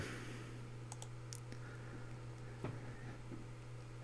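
A few quiet, sharp computer mouse clicks, spaced irregularly against a faint steady electrical hum, close and isolated with no talk.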